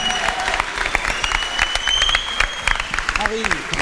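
Enthusiastic crowd applause at a live French music show, dense continuous clapping with cheers and whistles, loud and close, voices calling out over it.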